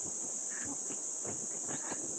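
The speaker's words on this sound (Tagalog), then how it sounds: "Naririnig ba yung kuliglig?" Crickets at a campsite in Indang, Cavite give a steady, continuous high-pitched trill in the background, with faint scattered rustling and footsteps nearby.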